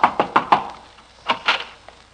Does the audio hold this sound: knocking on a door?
yes